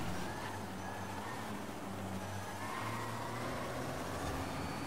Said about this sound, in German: Irgendein Auto klingt hier richtig komisch.